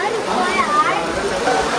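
Steady rushing of the Guchhu Pani stream near Dehradun, water flowing and gurgling continuously at close range with a broad, even wash, voices faintly mixed in beneath.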